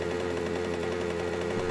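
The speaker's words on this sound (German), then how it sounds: "Rasenmäher? Also, das ist Moped." A moped engine in the survival video game 7 Days to Die drones steadily, a buzzing, evenly pulsing motor tone held at constant level throughout.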